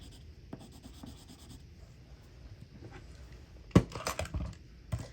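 A colored pencil is sharpened by hand, giving light scratchy grinding and rubbing at close range, with a louder burst of scraping near the end and no talking.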